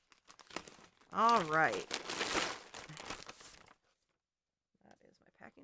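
Plastic packaging crinkles and rustles as scissors slice open a parcel of yarn covers. A person talks over the handling, which fades to near quiet before a few faint final rustles.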